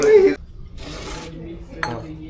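At a fish eatery near Veer dam outside Pune, plates and spoons clink and scrape close by in a couple of short bursts, with a brief voice at the start.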